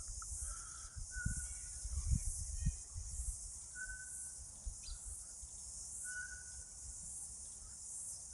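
Faint, sparse bird chirps sound outdoors over a steady high insect buzz, with a few soft low thumps nearby.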